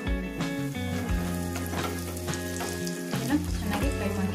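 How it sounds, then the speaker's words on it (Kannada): Cashews and raisins fry in hot oil for festive moong dal kheer, giving a steady, close sizzle with light stirring throughout and no talking. "ಇದನ್ನ ಚೆನ್ನಾಗಿ ಫ್ರೈ ಮಾಡಿ. ಗೋಡಂಬಿ ಫ್ರೈ ಆಗಿದೆ."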